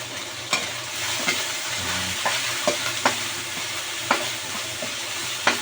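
Pansit bato ingredients sauté in a pan with a steady close sizzle, while a utensil stirs and scrapes against the pan in scattered sharp clicks.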